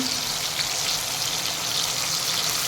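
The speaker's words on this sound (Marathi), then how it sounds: "कांदा लसूण आणि आलं याची जी पेस्ट बनवली आहे ती घालूया आणि दोन ते तीन मिनटं आपण ती" Onion, garlic and ginger paste frying in a pan for Amritsari pindi chole, a dense, steady close-up sizzle that runs without a break.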